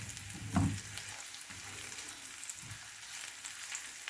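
Garlic stir-frying in a pan gives a low, steady sizzle, with a brief louder scrape of the spatula early on and gentle stirring after, with no speech.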